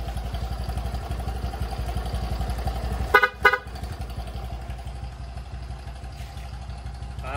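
Horn on a Motorstar 125 motorcycle wired as a dual horn with passing light: two short loud honks close together, sounding alone over a steady engine idle.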